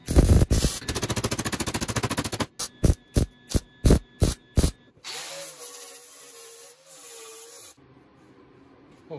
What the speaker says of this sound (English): I was gonna weld it in full, but for whatever reason this metal doesn't weld very well.